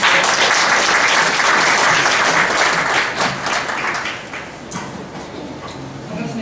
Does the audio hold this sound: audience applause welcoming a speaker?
yes